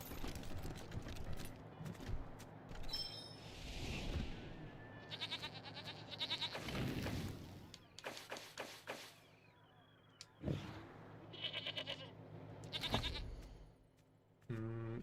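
A mountain goat in the video game Wasteland 3 bleats several times in bursts among mechanical whirs and game effects, fairly close and with no talk.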